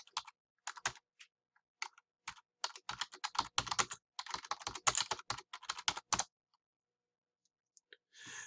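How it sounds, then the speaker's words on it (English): Rapid clicking of a computer keyboard as a website address is typed, bursts of keystrokes running for about six seconds, then a pause and a brief final soft sound; no voices. "go into incognito mode by hitting Control Shift and N, type in the website information"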